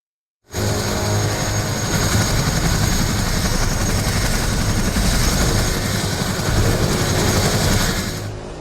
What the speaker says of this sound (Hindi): MI-17 हेलीकॉप्टर के जरिए लोगों को निकालने का काम शुरू किया गया